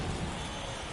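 Steady rain falls in a baseball game from MLB The Show, a constant dense hiss of downpour with a low rumble underneath, filling the whole moment with no voices.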